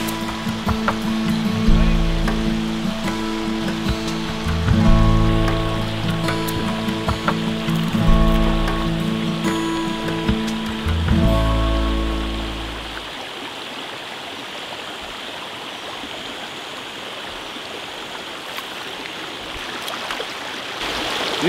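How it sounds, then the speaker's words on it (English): A waterfall pours into a river pool where trout fishing takes place, a constant rushing wash of water heard nearby behind a rhythmic mechanical clicking and whirring, likely a spinning reel, that stops halfway, leaving the steady flow alone. "As you can see in the background, a waterfall."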